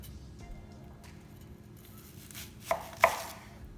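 A knife chops onions on a board for Goan choris, starting with faint light taps and ending in two sharper close cuts.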